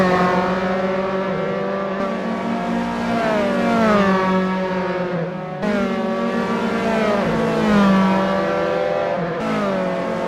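Dallara F312 open-wheel race cars in Assetto Corsa, racing at Rattlesnake Point, scream loudly and continuously, the engine note rising and falling through gear changes, with no talk over it.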